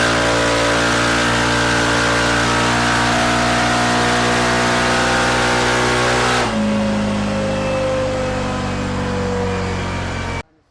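An engine fitted with an APR exhaust pipe is held at full throttle, loud and sustained with steady droning tones, then the pitch drops as it eases off near the end before cutting out abruptly.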